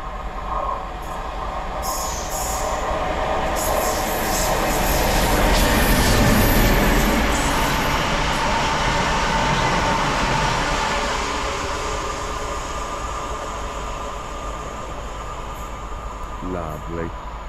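A Class 47 diesel locomotive passes on the Kettering to Northampton line in the morning. A loud, continuous rumble of engine and rolling wheels swells to a peak midway, then slowly fades as the train draws away.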